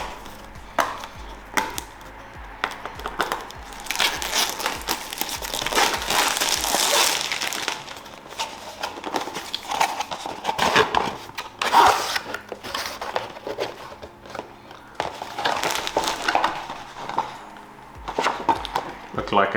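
A boxed helium miner being unpacked: plastic packaging peeled and crinkled off, with irregular crackling, tearing and handling noises close by, and someone talking at times.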